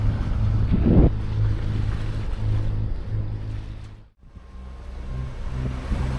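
A motorboat engine drones steadily at close range on a calm, windless sea with water washing along the hull; the engine noise briefly dips before resuming.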